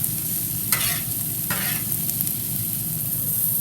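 Chicken stir fry with vegetables sizzling on a Blackstone griddle, a constant loud frying hiss with two brief bursts of stirring or scraping, no talking.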